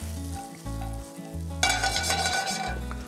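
Enoki mushrooms sauteing with salt in sesame oil, a steady close sizzle that jumps louder partway through as more hits the hot pan, over a low rhythmic background hum.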